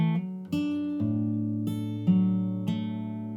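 An acoustic guitar plays the riff of a song, with a handful of plucked notes and ringing chords struck at an unhurried pace, close and clear with no voice.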